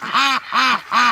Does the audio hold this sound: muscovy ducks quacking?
yes